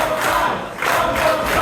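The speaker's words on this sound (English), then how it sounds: "The crowd calling for it again." A wrestling arena crowd roars and chants together at a United Wrestling match, a loud dense wall of voices that dips briefly mid-clip before surging back.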